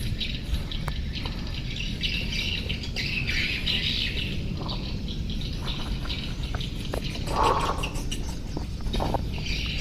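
Swiftlets calling at night, with scattered high squawks and chirps, some faint and some nearer, over a steady low rumble of background noise.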